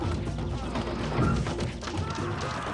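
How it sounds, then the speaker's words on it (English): Braves in the video game Populous knocking down huts, a dense stream of overlapping thumps and crunching thuds over steady game noise, swelling briefly in the middle, with no speech. "These Braves take down these huts really quickly."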